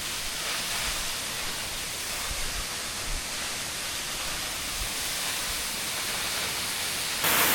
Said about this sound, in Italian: Seconda cascata, bellissima.